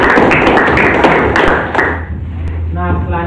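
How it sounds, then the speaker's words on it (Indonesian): Students clapping hands in a classroom, a brisk burst of close applause lasting about two seconds, then giving way to a teacher's voice. "Oke, luar biasa, tepuk tangan."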